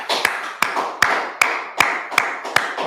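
A person claps hands in a steady slow rhythm, seven or so sharp, fairly close claps spaced evenly, each with a short ringing tail and nothing else heard.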